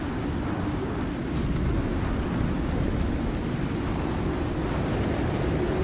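Thunderstorm weather in the survival video game Icarus, with a dense, continuous roar of wind and rain that holds steady throughout, loud and unbroken.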